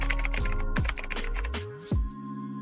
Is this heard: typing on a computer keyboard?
yes